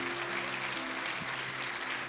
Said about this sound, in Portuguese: dá um aplauso ao Senhor agora